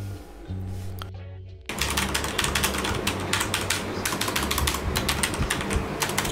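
Typing on a Cougar Attack X3 RGB mechanical keyboard with Cherry MX switches: after a brief quiet pause, a dense, steady run of rapid keystrokes clacks continuously and close up.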